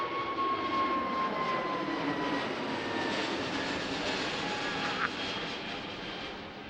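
A jet airliner departing Runway 36L at Schiphol makes a sustained engine roar with a thin tonal whine. The sound holds fairly steady and then fades slightly as the aircraft pulls away.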